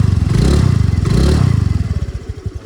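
A Honda Activa scooter, stuck in sand, revs its engine hard in loud, close, rapid pulsing bursts that rise and then sputter down, with clattering underneath.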